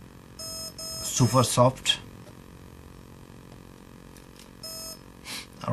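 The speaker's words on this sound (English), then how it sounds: "so wait for 3 beep" TowerPro MAG 8 18A electronic speed controller emits short high programming beep tones in spaced groups while a person talks between them.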